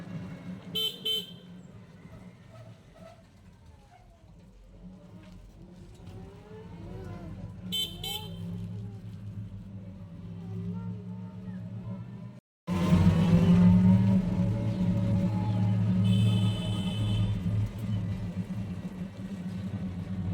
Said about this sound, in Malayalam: ആ റോഡിൽ കൂടെയുള്ളൊരു ഓട്ടോറിക്ഷ യാത്രയാണ് ഇത്